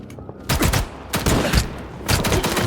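Several sharp gunshots from the game S.T.A.L.K.E.R. 2 ring out in quick bursts, loud and close, with brief pauses between volleys and a faint echoing tail.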